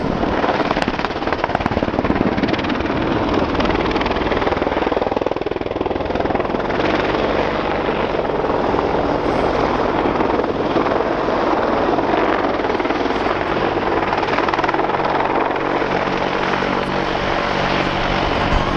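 An Army Air Corps AH-64 Apache attack helicopter, at an air show, roars loudly and continuously as it wings over and moves into a hover nearby, rotor thump and turbine whine filling the whole stretch without pause.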